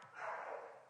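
A dog barks once in the background, a short faint bark that is muffled and distant, with no talking over it.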